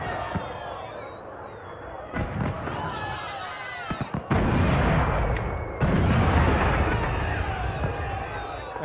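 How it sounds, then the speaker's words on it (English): Fireworks being shot in Dragon Age: Inquisition, a dense game soundscape of popping bursts and crackling blasts layered over music and busy background noise, growing louder and fuller partway through. "Such as this right here, shooting fireworks."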